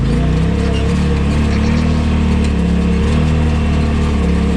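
Car engine running while driving around near Mulberry Mountain, a steady low droning hum with mild rises and dips in pitch, close and continuous with no talk.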